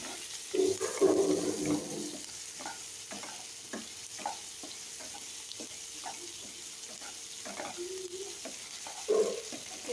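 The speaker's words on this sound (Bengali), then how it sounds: "পেঁয়াজগুলো একটু নেড়ে চেড়ে ফ্রাই করব।" Chopped onions stir-fried in a pan, with a soft background sizzle under repeated scraping stirs and occasional louder clatters of the spatula, fairly close and quiet, no speech.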